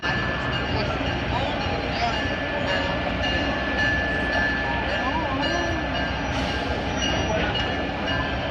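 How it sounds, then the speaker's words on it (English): A museum exhibit train rolls around the old Naval Air Station at the Gold Coast Railroad Museum behind a NASA locomotive, giving a continuous low rumble of wheels and cars with faint squeals, heard from aboard. "our trip was a ride aboard the Gold Coast Railroad Museum's exhibit train, a 25-minute, 3-mile trip around the old Naval Air Station, behind one of the famous NASA locomotives"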